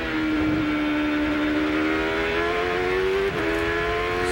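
A Champ Car race car at the 2007 Rexall Grand Prix of Edmonton accelerating out of a corner, its engine note climbing steadily in pitch, with a quick shift near the end before pulling on, loud and close.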